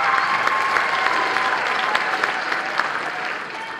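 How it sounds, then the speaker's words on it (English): Audience applause at a 2018 marching band concert, a dense burst of clapping from a crowd, steady and fairly loud, tapering slightly at the end. "Let's get a nice round of applause for Abby."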